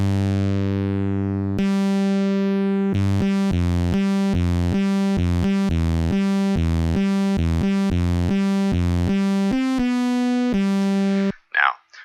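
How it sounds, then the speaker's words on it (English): TB-303 style bass synth with drive saturation adding fuzz, playing a loud, steady run of short repeated staccato notes after a sustained opening tone, ending with a brief noisy burst. "This drive gives it a bit more of a fuzzy sound."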